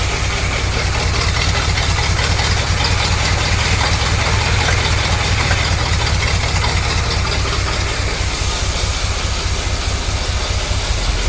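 A 1974 Corvette Stingray, an abandoned project car, idles loudly and close up while in gear, its engine giving a steady, rough, faintly knocking rumble with no talk.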